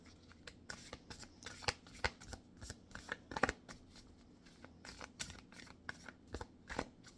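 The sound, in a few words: shuffling a deck of cards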